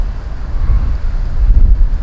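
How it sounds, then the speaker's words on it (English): Strong wind roars and buffets the microphone in a continuous low rumble, with no voices. "It's a very, very windy day"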